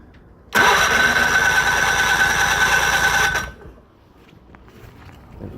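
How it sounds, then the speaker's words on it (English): A 50hp Mercury outboard motor with its spark plugs removed is cranked over by the starter for about three seconds in one loud, continuous whirring burst, which then stops abruptly. "all you want to do is just turn over the motor a few times"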